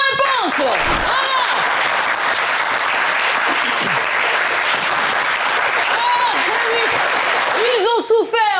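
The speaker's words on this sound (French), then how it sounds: "On va les applaudir très, très, très, très fort." Loud, sustained applause from a studio audience on a French television quiz show, continuous clapping and crowd noise with a host's voice and musical stings sounding over it.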